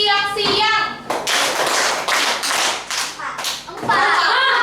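Schoolchildren in a classroom clap hands together in a counting game, several sharp group claps in a loose rhythm, framed by a teacher's voice calling out at the start and end.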